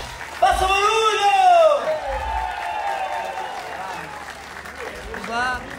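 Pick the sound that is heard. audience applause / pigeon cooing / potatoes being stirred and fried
audience applause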